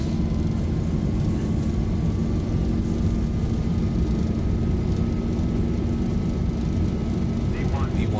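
Jet engines of a Boeing 737 in the Zibo mod flight simulator roar steadily at takeoff thrust, a loud, unbroken low rumble with a faint rising whine, and a voice speaks over it.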